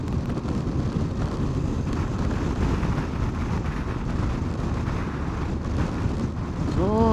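Steady wind buffeting the microphone while riding a motorbike on a winding Lake District route, a continuous loud rumbling roar throughout with no talking.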